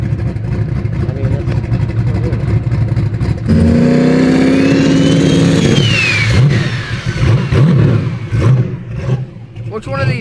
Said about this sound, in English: Throttle whack it all the time.